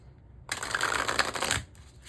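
A quick riffling shuffle of an oracle card deck, a dense flutter lasting about a second, close and fairly loud, then a short softer rustle.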